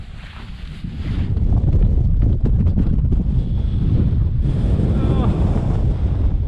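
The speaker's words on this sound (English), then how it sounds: "it's blowing a hoolie up here" Strong wind roars across a Cairngorm mountain summit near Carn an Fhidhleir, a steady loud buffeting of the microphone that builds after the first second and holds throughout, with no clear voice over it.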